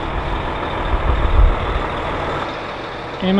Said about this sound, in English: Driver pulled in wrong way. He had to back it up.